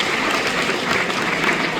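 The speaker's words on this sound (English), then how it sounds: "We can clap each other all the way back" Steady applause from a high school after-prom audience, a dense continuous wash of clapping lasting throughout with no pauses, fairly loud and close.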